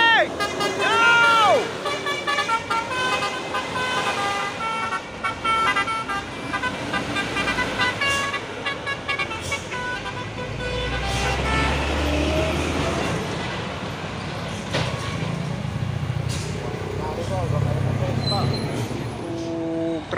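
Convoy of three trailer trucks climbing a hill, deep engine rumble rising and falling beneath repeated horn toots with harmonic tones, a person talking loudly over the traffic throughout.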